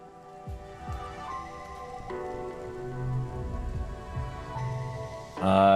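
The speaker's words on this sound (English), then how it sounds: "I love it when it rains here" Rain falls steadily in the video game I Was a Teenage Exocolonist, a continuous patter with low rumbling thuds, layered under sustained soft musical tones that swell briefly at the end.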